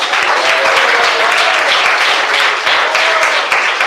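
Congregation applause during a Pentecostal church service, loud dense clapping from many people filling the room, steady and sustained with faint rhythmic pulses.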